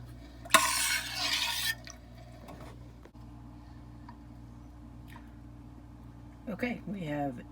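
Curds of sheep milk are stirred in a pot sitting in a warm water bath, with a brief, loud swishing burst near the start, then quiet, faint clinks, and a person starting to talk at the end.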